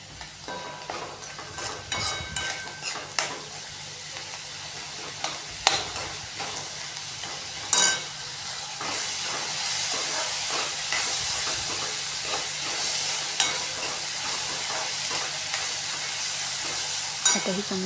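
Spices, including coriander powder, sizzle and get stirred in a pan while making poha, a continuous frying hiss with repeated scraping strokes of the spoon, close and steady.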